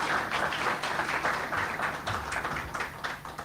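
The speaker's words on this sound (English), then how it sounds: "thank you so much, Tabiso, for that introduction and for that warm round of applause" Warm round of applause from an audience at a stakeholder roadshow event, steady dense clapping sustained throughout without pause, moderately loud and even, no speech over it.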